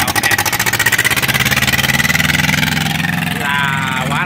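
A loud, raw Iseki TS2510 tractor engine runs without a muffler at a steady rapid chug, harsh and unmuffled, with a faint voice underneath.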